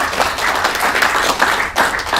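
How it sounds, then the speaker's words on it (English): An audience applauds after a talk, with steady, dense clapping that holds at an even loudness for about two seconds. "So now, yeah, give him a round of applause."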